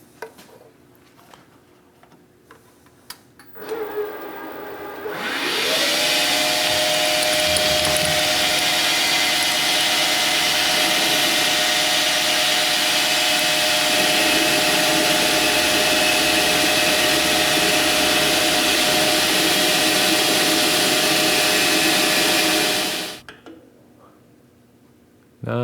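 Metal lathe with an electronic leadscrew turning stock down to 10 millimeters: the motor spins up with a rising whine, then runs as a loud, steady mechanical drone for nearly twenty seconds before cutting off.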